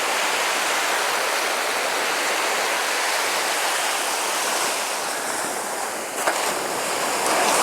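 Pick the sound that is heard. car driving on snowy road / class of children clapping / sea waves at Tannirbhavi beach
sea waves at Tannirbhavi beach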